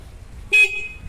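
A single short, loud stock car horn honk, triggered from the passing light switch, a brief blare that cuts off quickly against quiet background hiss.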